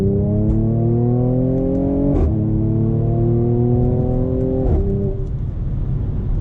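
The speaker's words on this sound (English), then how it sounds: "I really love those exhaust crackles and the pops from the gears changing" A 2020 Mercedes-AMG C 43 convertible accelerates through rising engine notes. Sharp exhaust pops crack at each of two gear changes, heard close and loud from the car over steady road noise.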